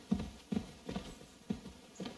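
Horse hooves clip-clopping in the medieval game Kingdom Come: Deliverance 2, five evenly spaced hoofbeats at a steady walking pace, close and clear with no talk.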